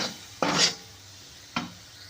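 A spoon scrapes and stirs gram flour into a ridge gourd stir-fry in a pan, two short rasping strokes separated by a pause, close and fairly quiet.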